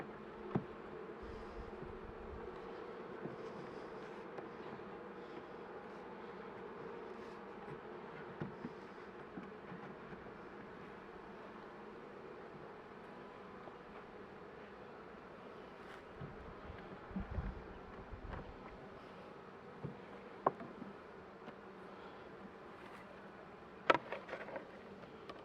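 Honeybees hum softly and steadily around an open hive during a winter inspection, a faint continuous drone with occasional small clicks and light outdoor wind.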